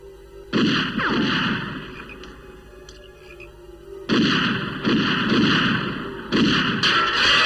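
Animated gunfire rings out in repeated loud bursts with pauses between volleys, heavy booming shots dominating with no voices.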